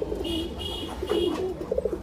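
High-flying racer pigeons coo in several low, rolling bursts close by, steady and fairly loud, with no voices.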